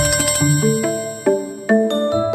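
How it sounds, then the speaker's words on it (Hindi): A mobile phone ringtone plays a bright, melodic run of quick electronic notes, loud and close with no talking. "पूरो दीदी का फोन है, जरूर आ रही है, बात करना चाह रही होगी।"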